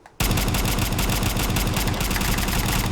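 A modded MP5 submachine gun in Fallout 4 firing on full auto, an extremely fast, dense stream of loud close shots that starts abruptly after a short silence and runs without pause.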